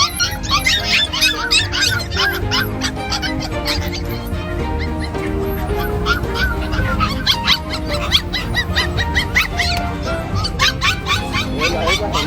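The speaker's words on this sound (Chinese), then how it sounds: "想找一条好的土狗都没有啊" Chinese rural native dogs and puppies at a countryside market give out a dense stream of high yelps, whines and squeals. Crowd chatter continues steadily underneath.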